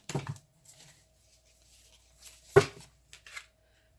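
Tarot cards shuffled by hand, soft scattered riffles and taps with one sharper slap of cards midway, close and quiet with gaps between.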